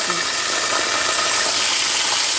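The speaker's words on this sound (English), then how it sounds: "Anytime you're frying fish, anytime you're frying anything, you want it to be dry before putting it into the pot." Fish frying in a pot of hot oil produces a loud, steady, close sizzling hiss that continues without a break.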